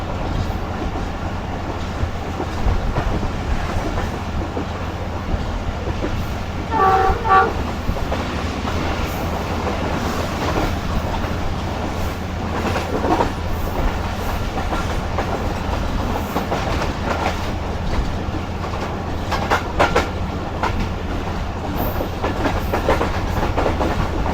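A Shalimar Express passenger train rumbles steadily along the tracks between Rohri and Sangi, skipping a station, with continuous rolling noise and faint rhythmic clatter, heard from on board behind the locomotive, with no talking.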